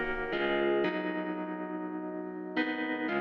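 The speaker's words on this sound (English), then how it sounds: "took this little Rhodes patch" A high-passed Rhodes electric piano patch plays a few sustained chords with effects-laden shimmer, each chord changing sharply before ringing out, moderately quiet and alone without speech.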